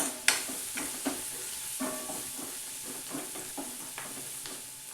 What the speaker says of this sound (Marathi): मसाला तेलात चांगला कांद्यासोबत भाजून घ्यायचा, परतून घ्यायचा.